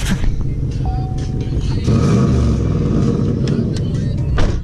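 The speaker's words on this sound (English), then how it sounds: "That's an exhaust leak." A Chevrolet Monte Carlo SS engine with an exhaust leak rumbles steadily with a rough, throaty low drone that swells louder midway, with a few faint clicks and knocks over the top.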